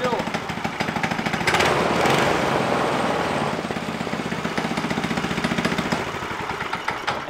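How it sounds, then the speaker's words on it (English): A rebuilt Briggs & Stratton small engine runs at idle close by, a rapid steady chugging with a brief rise in revs early on, then settling back to an even putter. "Turns to idle just fine, Phil."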